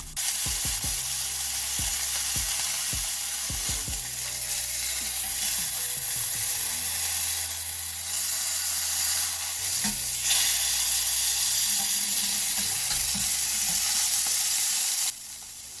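Sirloin steak searing in a hot pan as its fat edges render, a loud continuous sizzle and crackle broken by several sharp knocks and clatters of the pan near the start, with no voices.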